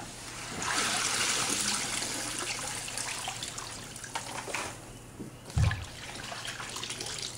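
Water trickles and splashes as soaked hay is lifted out of a tub of cool water, a steady wet dribble with one louder splash near the end, no talking.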